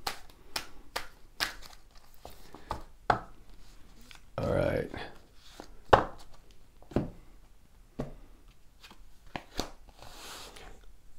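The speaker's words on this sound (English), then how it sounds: "Shuffling, shuffling, shuffling. Shuffling for Leo." Tarot cards being shuffled by hand in a quiet room, a series of soft, irregular riffling and tapping sounds with a voice speaking briefly in between.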